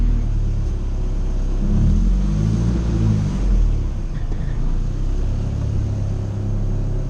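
A Nissan 240SX drives along the road, its engine a steady low rumble with a slight rise and fall in revs, heard close from inside the car.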